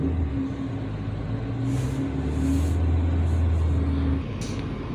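A Maruti Baleno car engine rises in a brief rev as the accelerator is pressed. The engine hum lifts midway, then settles back over a few seconds at moderate loudness with no voices.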